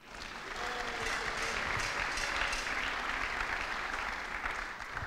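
A church congregation applauding, dense steady clapping from many people that swells in quickly and holds evenly, moderately distant with a faint murmur of voices beneath.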